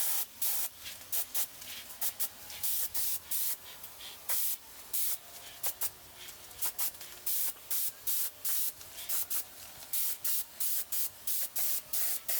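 Spray gun applying black paint to a car's trunk lid, a hissing spray in repeated short bursts with brief pauses, close and fairly loud, no talking.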